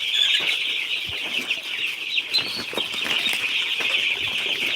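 Eight-day-old broiler chicks from Vates hatchery: a dense, continuous chorus of high-pitched peeping from many birds at once, loud and close, with occasional soft thumps and scuffles and no talking.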